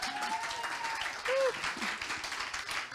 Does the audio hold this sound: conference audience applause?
yes